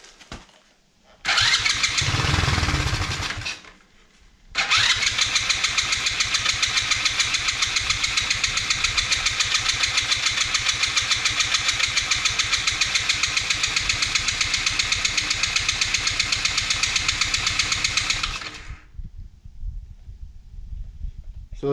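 An abandoned off-road buggy left outside in the rain cranks briefly, then catches and runs roughly for about fourteen seconds, a loud, even engine drone that stays unsteady before cutting out into quiet.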